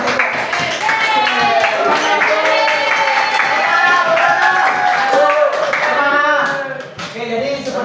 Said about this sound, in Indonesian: Masih tepuk tangan untuk kelompok 1. Yuk tepuk tangan yang tepuk.